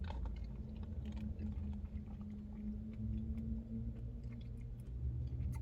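Someone chews a coffee drink filled with popping brown sugar pearls, soft close mastication and squishing over a steady low hum, with no talk.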